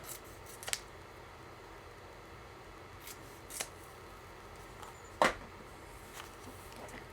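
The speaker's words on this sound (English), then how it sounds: "And scissors." A few quiet, brief snips of scissors cutting foam, spaced apart over a faint background hiss, with one sharper, louder cut near the end.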